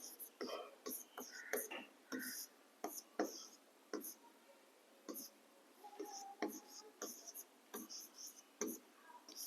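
Chalk or marker strokes tap and scratch across a board in short irregular bursts while a carbon chain is written out, sitting under a teacher's quiet speech.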